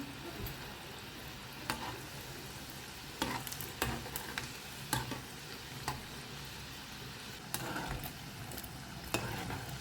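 Kulkul sweets deep-frying in hot oil for Christmas, a steady low bubbling sizzle with occasional sharp clicks of a utensil stirring the pan, close by and without talk.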